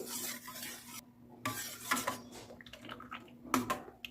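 A spoon stirs black grape juice, rattling and clinking against the glass in quick bursts. Short gaps of near silence break up the close, light mixing.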